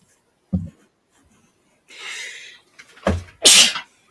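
A single close sneeze indoors during a paper craft session, preceded by a brief intake of breath and a short rustle, then a sharp burst followed by a quick sniff.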